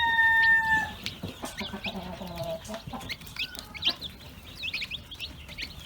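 A hen clucks in short, soft repeated calls near chicks, with a brief higher squawk at the start and scattered faint chirps over a quiet farmyard background.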